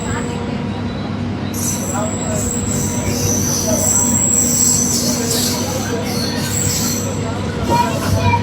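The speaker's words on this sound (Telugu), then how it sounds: "అక్కడ ఒక ట్రైన్ వెళ్ళిపోతుంది" A train rolls by with a loud continuous rumble and repeated high metallic wheel squeals rising and fading over the clatter, heard close from alongside the track.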